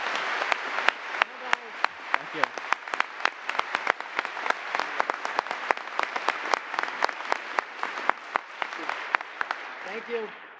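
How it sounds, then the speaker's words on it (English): Audience applause fills an award ceremony at the 2017 James Beard Awards: a steady, loud wash of clapping with sharp individual claps standing out, and a person briefly speaks near the end. "if you could give them a big round of applause for me."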